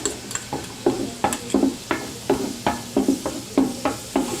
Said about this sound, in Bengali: রসুন ভাজা কমপ্লিট